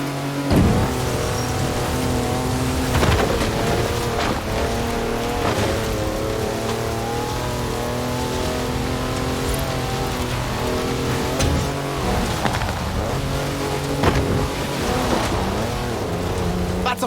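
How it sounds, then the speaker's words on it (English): A four-wheel drive car on mud tyres drifts sideways in Forza Horizon 4, its engine droning loud and steady throughout with a gritty, rushing surface noise and a few brief bursts. "That's a four-wheel drive car on mud tyres completely sideways"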